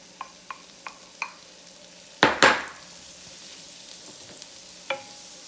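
Zucchini noodles added to a skillet with a little oil: a few light taps, then a loud scraping burst as they are tossed, followed by a quiet, steady sizzle and one more clink near the end, with no talking.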